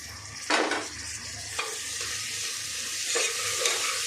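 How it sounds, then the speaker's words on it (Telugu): Ginger paste and tomatoes sizzle loudly in a hot pan, broken by three sharp scraping stirs at regular intervals, with no voices. "ఇప్పుడు అల్లం పేస్ట్ వేస్తున్నా. టమాటాలు కూడా వేస్తున్నా."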